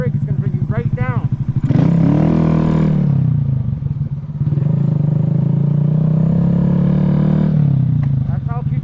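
A Honda Grom motorcycle engine roars steadily through a wheelie, held at a high even drone for several seconds with a brief dip, while someone talks before and after.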